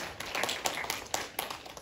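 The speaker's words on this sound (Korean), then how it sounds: "박수 한번 쳐주셨습니다." An audience at a writing lecture gives a few quiet, scattered claps in a short burst.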